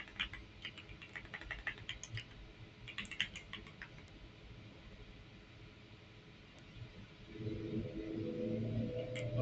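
Linux commands are typed on a computer keyboard in quick, light clusters of key clicks, faint and close, with a pause mid-way before a low background hum rises toward the end.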